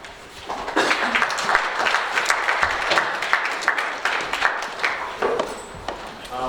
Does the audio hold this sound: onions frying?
no